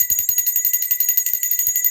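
A small bell rings rapidly and continuously in a steady rapid tremolo, bright and close, with no talking over it.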